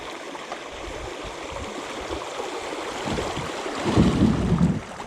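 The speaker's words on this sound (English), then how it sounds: "We've got a little bit of rapids here." Small river rapids rush past a kayak in low drought water, a steady watery wash that grows louder and closer toward the end, with some wind buffeting.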